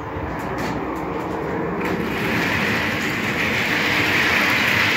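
Freight wagons hauled by several locomotives in Poland roll steadily along rails with a continuous rumbling roar and faint rhythmic clatter, loud and close, growing slightly louder.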